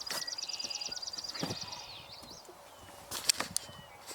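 A Virginia rail calling: a rapid, even series of repeated clicking notes for about a second and a half, then a few sharper bird calls later, at moderate distance against quiet outdoor background.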